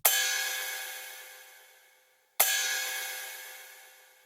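Two identical processed hits, each a bright noisy burst that decays slowly over about two seconds, shaped by tube saturation, compression, distortion and a short-decay, high-feedback Supermassive reverb, playing alone.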